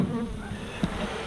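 Honey bees buzz close by and continuously around a beekeeper working an open hive in intense heat, with a brief louder pass partway through.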